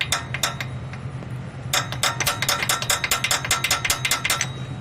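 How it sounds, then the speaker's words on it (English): Sharp metallic taps on a stuck compression fitting on the alternator of a 2013 Acura TL, a few spaced knocks followed by a rapid run of repeated strikes, close and crisp over a low steady hum. "Let's give it some taps."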